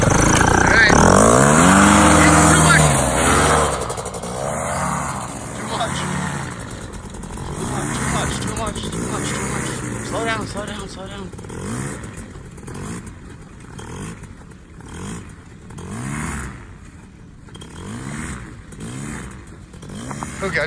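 A small engine on a kid's trike go-kart runs with the choke on, buzzing loudly up close and rising and falling in repeated revs while people talk over it.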